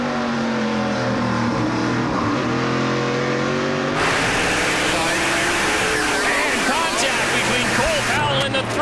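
NASCAR Pinty's Series stock cars racing at a restart, engines roaring loudly and continuously as they accelerate past, with a commentator talking throughout.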